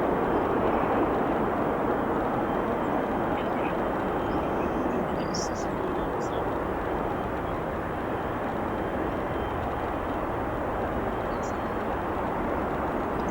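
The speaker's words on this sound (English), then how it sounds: "And the ANA is just about to depart here." An ANA airliner about to depart O'Hare International Airport gives a steady, broad jet engine roar at a distance that holds at an even level throughout.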